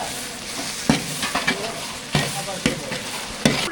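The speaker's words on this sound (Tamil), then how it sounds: "இஞ்சி பூண்டோட பச்சை வாசனை பொருளுக்கு நல்லா வதக்கிக்கலாம்" Onions, tomatoes and ginger-garlic paste fry for chicken gravy, a continuous sizzle broken by repeated scraping stirs of a spoon against the pan, close up.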